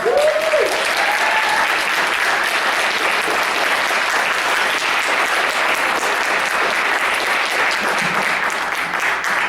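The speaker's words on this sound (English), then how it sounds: "give them a round of applause, please" A large audience at a literary festival stage show applauds loudly and steadily, the clapping holding at full strength throughout, with a brief whoop near the start.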